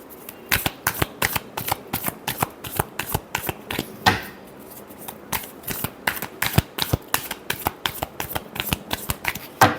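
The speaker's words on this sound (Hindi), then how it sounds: "last shuffle" Playing cards are riffled and shuffled repeatedly at close range, a rapid string of crisp flutters and snaps with no talking.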